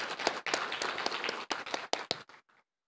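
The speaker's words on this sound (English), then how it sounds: "Please give a warm round of applause for Ms. Zuzana Košková." A conference audience applauds a speaker at a Japan and Central and Eastern Europe event, the clapping dense at first, then thinning into a few scattered claps before fading to silence.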